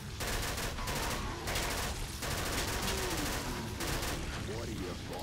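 Rifle gunfire in the video game Killing Floor, dense rapid shots in sustained bursts with brief gaps, loud and continuous.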